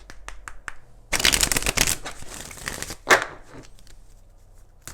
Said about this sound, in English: let's go ahead and do 4 shuffles for you.